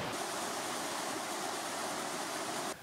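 Rushing water from a mountain stream and the Taoshan waterfall swollen by heavy rain, a dense, steady roar that stays constant throughout and then cuts off abruptly at the end.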